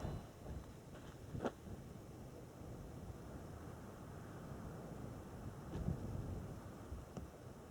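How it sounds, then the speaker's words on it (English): Steady low wind rumbling across the microphone at an outdoor shooting range, a faint continuous whoosh with a few brief gusts and no talk. "I'm going to let this wind kind of die down for a second"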